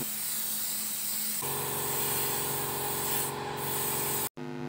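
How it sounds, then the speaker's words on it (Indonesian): A spray gun hisses steadily as mixed paint is applied to a Shoei motorcycle helmet, a continuous close spray with a faint mechanical hum, cut off abruptly near the end. "kemudian lanjut kita semprot dengan warna yang tadi kita oplos"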